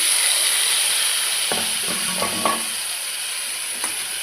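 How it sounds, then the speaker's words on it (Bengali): A loud, steady hiss of ground ginger, garlic and green chilli paste frying in a pan, with a few clinks and scrapes of a spoon stirring partway through. "ভালো করে কষিয়ে নেব"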